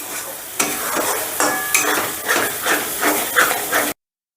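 Masala for a chicken-stuffed pointed gourd curry is stir-fried in a pan, sizzling and hissing steadily with repeated scraping stirs that come in loud bursts about every half second.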